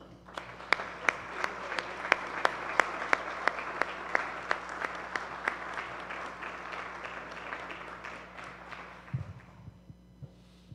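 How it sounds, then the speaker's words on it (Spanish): Steady applause from a crowd, with a few louder distinct claps standing out, fading off near the end over a low hum. "Lo recibimos al padre Hayton con un fuerte aplauso."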